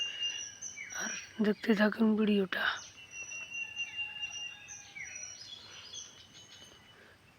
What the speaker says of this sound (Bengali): এই পাখিদের কিচিরমিচির শব্দটা খুবই ভালো লাগে সকালবেলায়।